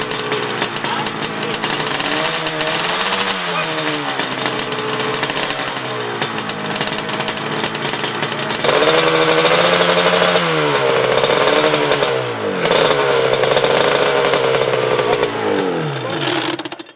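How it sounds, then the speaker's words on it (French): A loud racing Yamaha TZ 350 or KR 350 classic motorcycle engine revs and changes pitch repeatedly up close, with a busy dry-clutch rattle running underneath throughout. "Ces embrayages, ça fait un ramdam."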